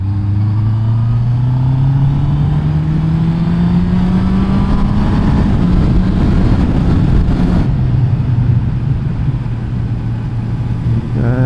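A Honda CB650R four-cylinder motorcycle accelerates hard while being ridden on twisty roads, its engine note climbing steadily in pitch through the revs over loud wind rush, then dropping after a shift, with no speech.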